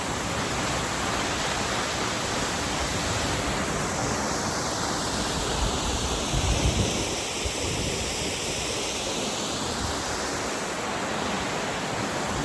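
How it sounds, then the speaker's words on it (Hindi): Harvalem waterfall in North Goa produces a steady, broad roar of rushing water that holds constant throughout, with no voices. "तो वाटरफॉल की पहली झलक।"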